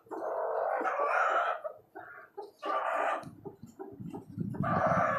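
Backyard desi hens and a rooster cluck and call nearby in several separate bursts, with throaty, drawn-out clucking phrases and short quieter gaps between them.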